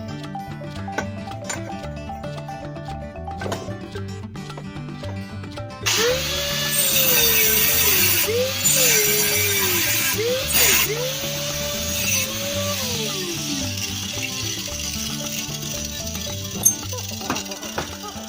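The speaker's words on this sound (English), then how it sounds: "I'm going to have to slot this one out a little bit this way." A power drill whines in several bursts while slotting out a hole on a go-kart, rising and falling as it bites, loud and close, over a steady low hum.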